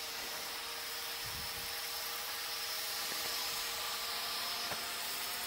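A Hubsan X4 H502S FPV quadcopter drone comes down to land outdoors, its steady high-pitched rotor whine holding throughout with a few soft knocks and bumps, no voices.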